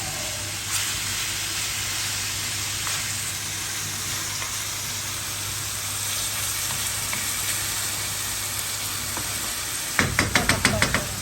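Beef for salpicao sizzles steadily in a hot pan, a continuous frying hiss, with a few sharp clattering scrapes of stirring near the end.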